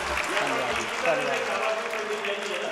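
An audience claps steadily at a satsang during the opening of a satsang hall, a continuous wash of applause with a voice talking over it.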